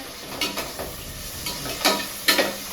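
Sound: stirring tomato masala in a cooking pan

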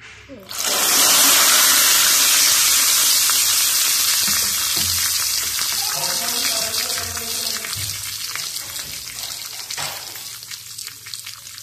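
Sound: curry leaves frying in oil for tempering

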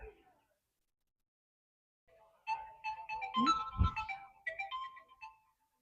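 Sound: phone ringtone

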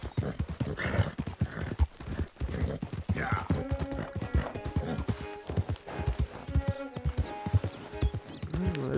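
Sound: horse hooves galloping, from a video game

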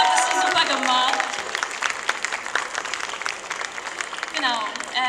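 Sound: audience applause at a Lolita fashion show stage

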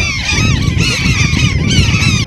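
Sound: mother seagulls calling

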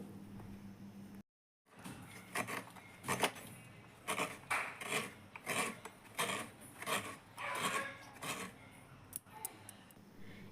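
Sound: grating coconut with a traditional kurni scraper

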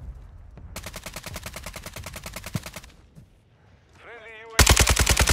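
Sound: gunfire in Call of Duty video game

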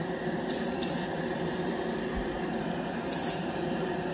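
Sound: Mr Hobby Procon Boy SQ single action airbrush spraying paint

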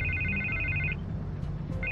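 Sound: telephone ringing in Batman: The Telltale Series video game

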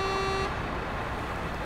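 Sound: truck horn honking, video game

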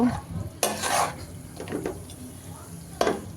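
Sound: beef stir-fried with spices in a pan

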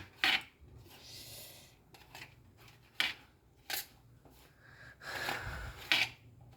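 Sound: knife cutting crusts off bread slices

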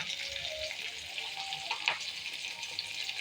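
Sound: stirring idli dish frying in a pan

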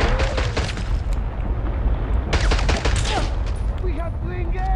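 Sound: shotgun firing in video game 007 Blood Stone

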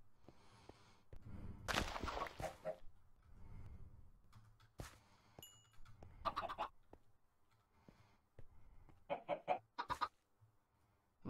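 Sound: chicken clucking in Minecraft video game

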